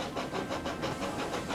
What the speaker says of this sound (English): Percy was idling in Farquhar Yards when Toby chuffed in